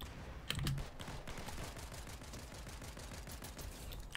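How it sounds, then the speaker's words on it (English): Rapid automatic gunfire from a weapon in Fortnite, a fast continuous stream of sharp shots sounding close and steady throughout, with no talking over it. "Oh, this thing shoots fast."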